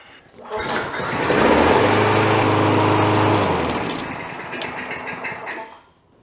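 Toro Model 20016 Recycler lawn mower engine catches after a pull start and roars steadily at close range for several seconds, then winds down to silence.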